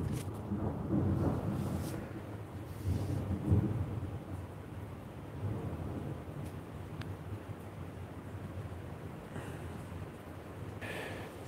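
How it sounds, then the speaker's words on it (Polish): Low, rolling thunder of a thunderstorm rumbles through steady background noise, swelling in a few broad surges before settling into a continuous distant roar. "Słyszycie burzę?"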